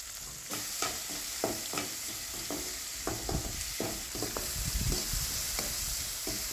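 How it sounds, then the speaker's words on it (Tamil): Chopped tomatoes and onions sauté in a pan for Chettinad country chicken, with a bed of sizzling under a run of repeated spatula scrapes and knocks, close and fairly even, with no talk. "தக்காளி வந்து பார்த்திங்கன்னா நல்லா வதங்கட்டும்"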